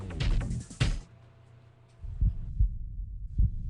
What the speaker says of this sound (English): This is the actual sound of my heartbeat.